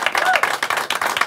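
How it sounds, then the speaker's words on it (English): A studio audience on a live music television episode claps for a guest, a short burst of many hands with a voice faintly mixed in. "Another round of applause for Danny"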